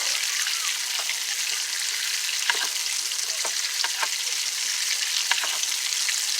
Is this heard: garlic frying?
yes